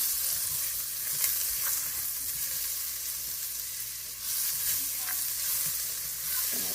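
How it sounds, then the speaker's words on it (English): Butter melting in a still-warm pan after kielbasa was browned, a soft steady sizzle with light hiss and a few faint stirring clicks, close and fairly quiet with no voices. "I'm gonna go ahead and add in a couple tablespoons of butter."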